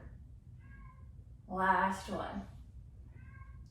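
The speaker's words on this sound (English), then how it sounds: "Oh, I have a little kitty. If you guys hear her, she's meowing." A small cat indoors lets out one brief, quiet meow during a mat workout, with a person speaking softly nearby.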